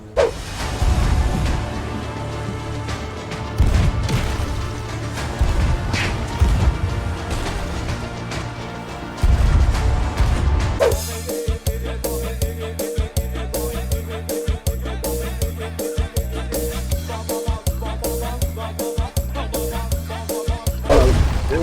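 A ship taking damage in the pirate video game Sea of Thieves, heavy booming impacts and a loud rhythmic pounding battle cue over continuous game noise.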